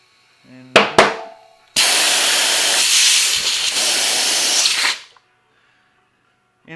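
Compressed air hisses loudly and steadily for about three seconds into a KTM 1190 motorcycle tire on its rim, preceded by a few sharp clanks and cutting off abruptly.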